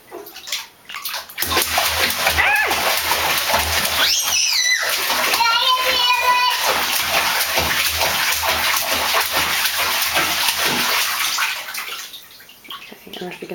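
A small child splashes water in a bathtub, with busy slapping splashes and sloshing that run steadily for about ten seconds, while a voice and an adult's voice talk over the water nearby.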